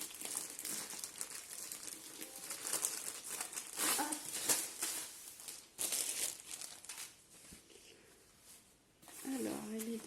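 A plastic bag from a diamond painting kit crinkles and rustles as it is handled during an unboxing, in irregular bursts of close crackling with a quieter pause before the handling resumes.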